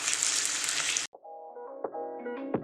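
Onions frying in butter in a pan give a loud, dense sizzle for about a second, then it cuts off abruptly and a tonal musical tune follows.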